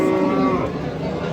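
Cows at a busy cattle market, a loud close moo rising over market murmur and voices nearby.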